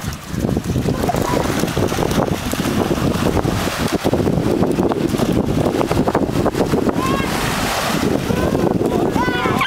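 Chilly wind gusts across the seashore, buffeting the microphone in a steady rough roar over the wash of surf, with voices faintly underneath.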